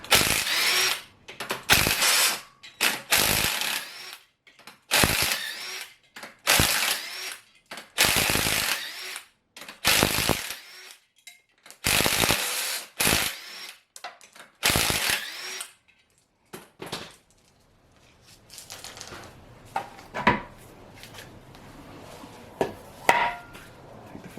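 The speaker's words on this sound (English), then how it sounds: "Get the flywheel off." Hand tools working on an engine flywheel to get it off: repeated bursts of ratcheting and clattering tool noise in uneven clusters, fairly close and loud, easing into quieter scraping and handling toward the end.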